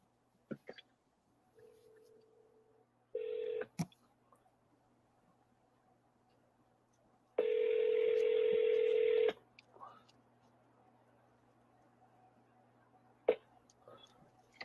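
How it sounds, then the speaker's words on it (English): A phone being dialed gives short electronic keypad tones in a few bursts, one brief and one held for about two seconds, each separated by quiet gaps with faint clicks. "Let's start dialing"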